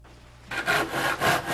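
Hand saw cutting and trimming a wooden printing block of bamboo, jujube or walnut wood, a few close, rough back-and-forth strokes after a short quiet start.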